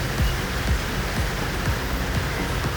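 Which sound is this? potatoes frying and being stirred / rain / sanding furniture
rain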